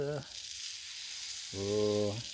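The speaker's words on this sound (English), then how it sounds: "got a good sear going there" Tri-tip steak sears on a griddle with a constant soft hiss, while two short tonal, voice-like hums rise above it at the start and again near the end.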